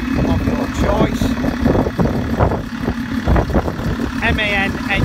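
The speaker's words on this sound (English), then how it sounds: "MAN engine" MAN diesel engine idling in a used bus with a Voith 4-speed automatic gearbox, a steady mid-pitched rumble running continuously beneath nearby talking.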